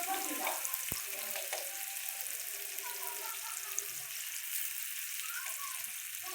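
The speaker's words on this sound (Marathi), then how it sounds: "चांगली तेलात परतायची बघा" Crushed green chillies frying in oil in a pan with curry leaves, tomato and garlic, a continuous soft sizzle with faint occasional stirring clatter throughout.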